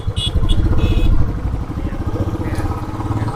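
A scooter engine hums steadily with a pulsing mid-range drone as it rides along a mountain road on the Haridwar-to-Kedarnath route, close and continuous with faint clatter.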